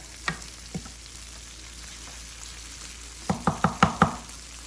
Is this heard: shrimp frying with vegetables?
yes